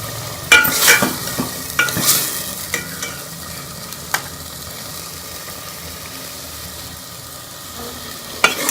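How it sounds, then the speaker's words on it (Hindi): Potatoes frying in masala with tomatoes in a pan, a steady close sizzle under scraping spoon strokes that are busier at first, then settle into continuous frying. "अब इसके अंदर मैं ये आलू डाल दूँगी और इसको भी मसाले में अच्छी तरह भून लेंगे 4 से 5 मिनट के लिए"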